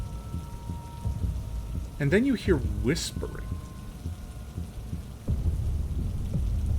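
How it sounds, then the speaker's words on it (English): A heavy rain sound effect plays during a modern horror tabletop role-playing session: a steady, dense downpour hiss that runs throughout, with a voice speaking over it midway. "The sound of rain is heavy in your ears"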